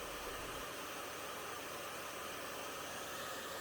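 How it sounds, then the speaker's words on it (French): A hair dryer runs steadily on a compact Elite 100 V2 portable power station, a continuous loud broadband blowing whoosh with no pauses and no voices. "Je reprends le sèche-cheveux."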